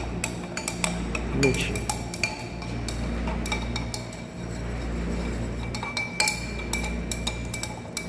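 Emulsion being shaken inside a glass container, giving a string of light clinks and rattles of glass, with people talking over the clinking throughout.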